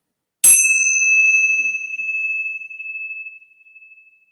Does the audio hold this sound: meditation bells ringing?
yes